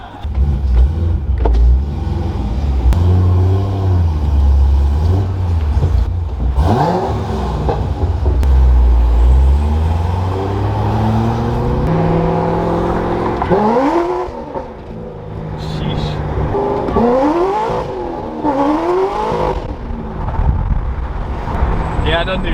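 A Corvette revs and accelerates hard with its tires spinning, the loud engine note rising and falling through several sweeps, close and dominant, with voices talking over it.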